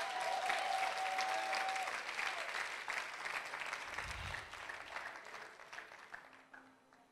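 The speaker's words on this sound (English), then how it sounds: "You can clap if you want to clap." An audience at a religious sermon gathering claps steadily for several seconds; the dense applause slowly thins and fades toward the end.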